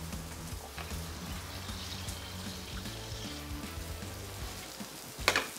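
Morgan Ranch wagyu beef sears in a hot pan with a steady, close sizzle that runs throughout, briefly rising in a sharp crackle near the end.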